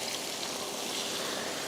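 Water pours steadily into a pot of kara kuzhambu, a soft continuous splashing stream heard alone and close.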